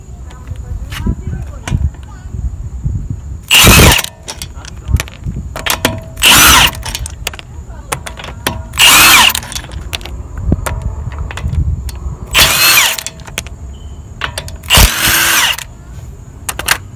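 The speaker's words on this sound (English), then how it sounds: "Now I'm going to remove the wheel using the 17 inch impact wrench adapter." Impact wrench spinning off the rear wheel bolts of a 2003-2005 BMW Z4 E85 with a 17 mm adapter: five loud, close bursts, each about half a second long, spaced a few seconds apart, with quieter handling noise between them.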